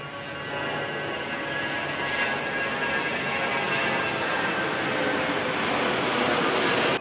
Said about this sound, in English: We might have to pause just because we've got another airplane taking off.